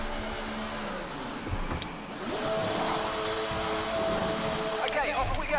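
An F1 car in the F1 24 video game pulls away from a wet-weather pit stop on intermediate tyres, engine whine climbing steadily through the gears, with a voice talking over it.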